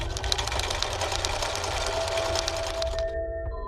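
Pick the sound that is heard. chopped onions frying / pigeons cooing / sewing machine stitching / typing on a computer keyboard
sewing machine stitching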